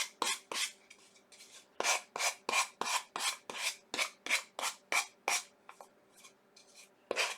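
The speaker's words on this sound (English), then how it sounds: "I'm just going to go back over the edge a little bit with my sandpaper" Sandpaper is rubbed by hand along the edge of a shelf sitter, giving a close series of short, crisp rasping strokes in quick, slightly uneven rhythm with brief pauses between bursts.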